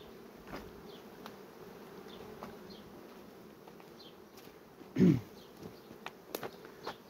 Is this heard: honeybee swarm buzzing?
yes